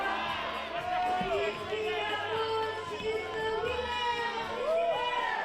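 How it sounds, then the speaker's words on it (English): At an ice climbing lead final, athletes below shout and cheer in a chorus of rising and falling voices, fairly loud and continuous with crowd chatter. "Big cries now from all the other athletes cheering from below."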